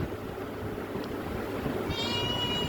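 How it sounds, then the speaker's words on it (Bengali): A kitten with paint marks on its paws and forehead gives one clear, drawn-out meow near the end, heard close above a steady low background rumble. "আর ম্যাও ম্যাও করতেছে"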